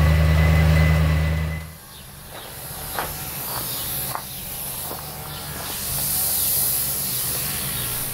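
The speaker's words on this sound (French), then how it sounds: "Ça évitera de lever des nuages de poussière en pulvérisant la peinture." A steady hiss of a spray gun painting the underside of a Jaguar S-Type R runs throughout, after a loud engine-like hum cuts off at the start; a few soft knocks punctuate the spraying.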